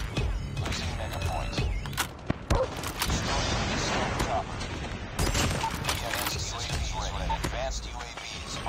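Gunshots in a video game ring out as a string of sharp cracks and clustered bursts scattered across the scene, mixed with mechanical clatter and someone talking.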